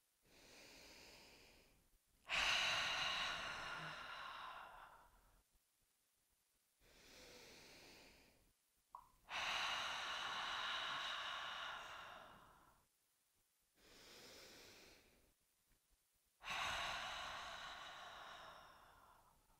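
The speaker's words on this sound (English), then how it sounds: "take 3 deep breaths together, in through the nose and out through the mouth with sound" Three slow, deep breaths during a guided yoga session, each a long inhale through the nose followed by an audible, sighing exhale through the mouth, close and quiet with pauses in between and no speech.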